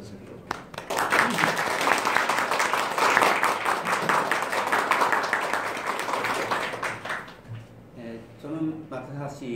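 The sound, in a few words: audience applause welcoming lecturer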